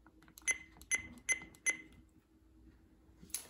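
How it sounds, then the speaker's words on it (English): Four short, clear electronic beeps from the buttons of a weather radio, evenly spaced about half a second apart, fairly quiet and high-pitched, followed by a brief faint tone near the end. "But these button beeps are a lot quieter."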